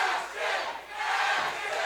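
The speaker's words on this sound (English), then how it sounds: "The crowd is going crazy for Ashton Caniglia." An MMA fight crowd at a DCS 71 event roars and cheers in two loud surging waves, a dense wash of voices filling the arena.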